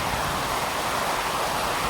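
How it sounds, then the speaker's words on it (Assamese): Heavy monsoon rain pours down outside a shop, a dense, steady hiss that holds at an even loudness for the whole stretch with no voices over it. "গাইজ চাওক ইমান ডাঙৰ বৰষুণ"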